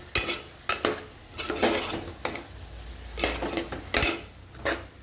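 A spatula scrapes and clanks in a pan as onion, green chilli and tomato are sautéed for a chicken curry, about half a dozen sharp strokes over a faint background sizzle.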